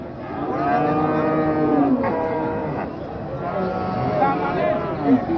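Cattle low repeatedly at a busy livestock market in Wirosari, Indonesia, with long harmonic moos rising and falling close by over crowd chatter; a voice talks briefly.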